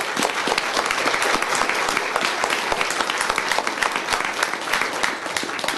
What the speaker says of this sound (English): I just wanted to give everybody a round of applause and the recognition that they deserve